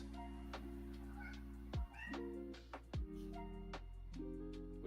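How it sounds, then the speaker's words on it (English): A cat meows at a door with several tonal, drawn-out meows in a slow irregular sequence, faint and somewhat distant against a steady electronic hum. "We got a Cleo at the door meowing away"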